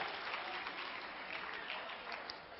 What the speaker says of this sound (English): Everybody give yourself a round of applause